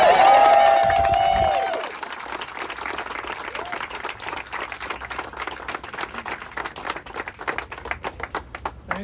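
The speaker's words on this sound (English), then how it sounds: "Give him a round of applause." A crowd claps loudly for about two seconds, then the applause thins into scattered, continuing claps amid murmuring voices outdoors.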